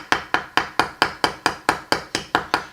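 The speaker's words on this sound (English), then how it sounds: "I use the ball side of a chasing hammer to do it. You just tap around gently around the side" Ball side of a chasing hammer tapping a steel tube rivet on a steel riveting block, twelve light, evenly spaced metallic taps in a steady rhythm, close and clear with no other sound.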